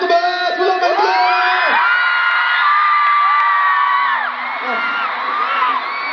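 A concert crowd in Mexico City screams and whoops in a continuous, loud, high-pitched wall of cheering, with rising and falling shrieks layered over one another and no break for the whole stretch.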